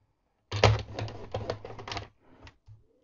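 A paper trimmer cuts card in a papercraft box project: a quick run of close, crisp rasping and clicking strokes for about a second and a half, then a couple of small taps, with no voices.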